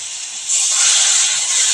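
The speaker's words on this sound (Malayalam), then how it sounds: "വീഡിയോ പിടിക്കുന്ന ആൾ വേപ്പിൻ്റെ ഇല പൊട്ടി തെറിക്കുമ്പോൾ ഓടുന്നു." Curry leaves hitting hot oil in a pan, a sudden loud, close hiss that swells and holds.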